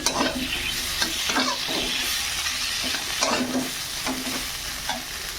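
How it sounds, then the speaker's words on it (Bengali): Green chillies fry in hot oil with chopped pointed gourd, garlic and nigella seeds, a steady close sizzle broken by regular scraping strokes of a spatula stirring the pan. "এই যে এই লঙ্কাগুলো দিচ্ছি দিয়ে একটু ভালো করে ভেজে নেব"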